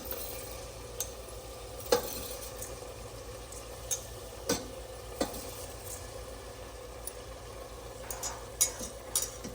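Washed rice is stirred into a sizzling tomato mixture in a pan for tomato rice, with a low steady fry under scattered scraping clicks from the spoon.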